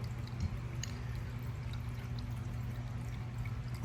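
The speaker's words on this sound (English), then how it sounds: "He's got the water just pouring off his head." Steady stream of water pouring over a cat's head, a continuous close splashing wash with faint drips, alone with no talk.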